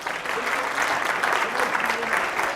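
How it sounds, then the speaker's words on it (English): Another round of applause from an audience at a startup-week pitch competition: a steady, full wash of clapping from a room of people, sustained and fairly loud throughout. "So another round of applause."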